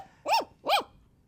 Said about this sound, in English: He sees Dusty still barking.